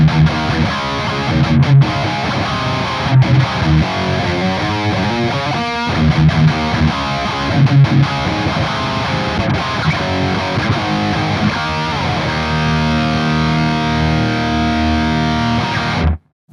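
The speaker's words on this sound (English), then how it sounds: "This is a high gain 6505 tone." High-gain distorted electric guitar through a Kemper profile of a 6505 amp, miked with an SM57 on a V30 speaker in a 2x12 cabinet, riffing loudly and continuously with chugging palm-muted rhythms before stopping abruptly at the end.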